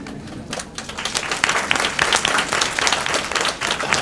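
An audience at a school event claps for a newly introduced principal, a short burst of steady, dense applause from a crowd indoors.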